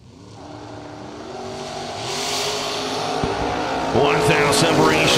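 A Mustang drag race car accelerates at a drag strip during the SFG 350 event at Cedar Falls, its engine note rising loud and close, with an announcer's voice talking over it throughout.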